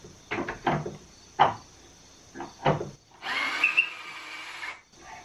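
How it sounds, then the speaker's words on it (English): Pocket hole screw driven into a wooden miter saw cabinet, with several short knocks and handling sounds followed by a brief, steady whir of a power drill, close and quiet. "Okay, I've got the last pocket hole screw here."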